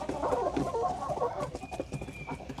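Backyard chickens, including a Silkie and a mixed-breed bird, cluck steadily inside a winter coop during morning chores. The murmuring calls are close and overlapping, with a thin high whistle partway through and no talking.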